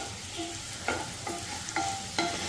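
A spoon stirs prawn roast masala in a hot pan, four or five rhythmic scraping strokes over a soft continuous sizzle, close up with no talking.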